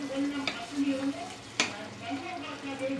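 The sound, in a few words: tomatoes stirred into sizzling frying pan with green chillies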